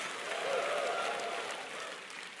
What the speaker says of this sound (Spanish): dele un aplauso a Dios, por favor